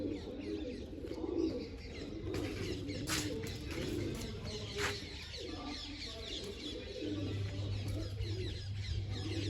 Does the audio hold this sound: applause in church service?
no